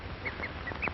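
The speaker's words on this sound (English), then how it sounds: "A cheetah slinks off, uttering his odd bird-like call." A cheetah on the African plains gives its odd, bird-like call, a short run of about four faint, chirping yelps spaced at an even rhythm over a low background hiss, recorded in a 1930 safari film.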